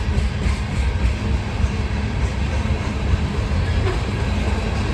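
A steel coil freight train with an EMD SD70ACe locomotive and a distributed power unit rolls past steadily, a loud, continuous low rumble of wheels and cars with faint rail clatter throughout.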